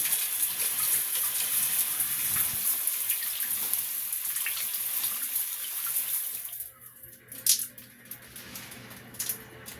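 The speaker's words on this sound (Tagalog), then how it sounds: "Maganda na po yung kanyang tubig." Water running steadily from a repaired faucet that had been clogged, a close continuous splashing hiss that thins out after several seconds into a few lighter drips and trickles.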